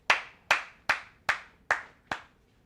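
Six sharp single hand claps in a room at an even rhythm of about two per second, each a crisp isolated snap with a short decay, fairly close and alone, clapping to switch on a clap-activated light.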